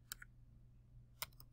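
Faint keys on a computer keyboard tap in two brief bursts, a pair of clicks then a short cluster about a second later, over a low steady hum.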